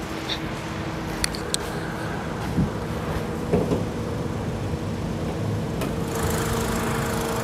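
A used 2014 Honda Brio's engine runs at a steady idle, a low continuous hum with faint mechanical ticks and a few brief knocks, close and unbroken throughout.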